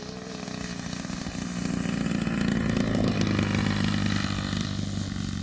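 A 50cc engine on a Great Planes Revolver RC airplane drones steadily in flight, loud and continuous with a buzzy rasp that swells slightly in volume partway through.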